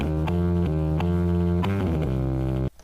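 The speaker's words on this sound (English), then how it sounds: "Let's grab a distortion plugin. Let's grab ourselves an amp here. Let's add some reverb." An electric guitar runs through a distortion plugin, an amp model and reverb, playing sustained, gritty chords that change every half second or so, loud and alone before cutting off abruptly at the end.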